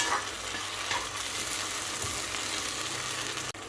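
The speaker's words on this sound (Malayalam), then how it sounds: "നല്ലോണം ഇളക്കി കൊടുക്കുക" Ginger chicken fries loudly in a pan and is stirred, a dense close sizzle with scraping stir movements throughout, ending in a sudden brief drop.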